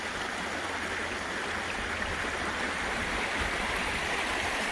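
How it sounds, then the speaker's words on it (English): Steady broadband rush of a salmon stream flowing near rapids, a continuous close, even wash of moving water with no voices. "I like the sound of the water"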